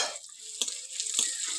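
Green chillies and onions are stirred in a pan over a village clay stove while a fish curry is being cooked, with two short scraping strokes and a soft sizzle between them.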